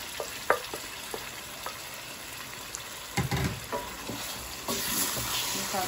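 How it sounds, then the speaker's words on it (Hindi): Tomato, onion and garlic paste with spices sizzles steadily in a pan for palak gosht, broken by a few scraping stirs and louder bursts of frying near the end. "मसाले को पेस्ट में अच्छे से मिक्स करेंगे। चार पाँच मिनट तक भूनेंगे।"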